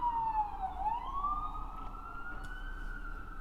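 An emergency vehicle siren wails outside, one sweeping tone dipping and rising again, heard from a distance through a room with faint background hum and no talking.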